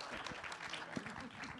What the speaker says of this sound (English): another round of applause for our documentary panel